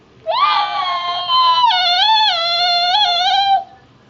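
A voice imitates a horse whinny: one long, high, wavering squeal lasting a few seconds, close and loud.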